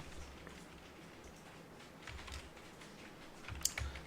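Typing on a computer keyboard while entering text into a Korean word processor, light clicky keystrokes in a steady quiet patter, with a couple of sharper key hits near the end; no talking.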